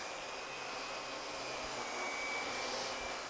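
A Miele Capricorn S5980 canister vacuum cleaner runs continuously at close range, a steady airy whine and motor hum with no pauses and no talking.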